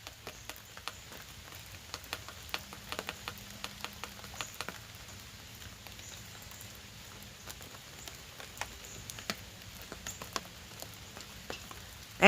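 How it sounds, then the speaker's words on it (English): Rain falls outdoors as faint scattered drops, pattering and ticking irregularly throughout, with nothing else prominent. "And it's raining again today,"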